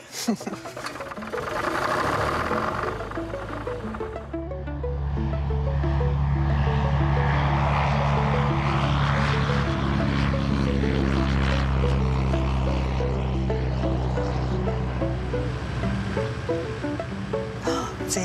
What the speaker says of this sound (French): nous allons mettre l'avion en route